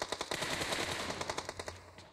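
Rapid bursts of gunfire in PUBG Mobile crackle in quick succession, a dense automatic volley with sharp repeated cracks and no talking.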